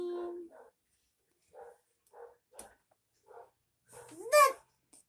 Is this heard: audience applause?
no